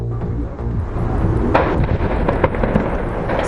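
A dense, rumbling barrage of explosions and rapid gunfire pops as security forces storm two hostage sites in Paris, loud and continuous, with sharp cracks punching through the din.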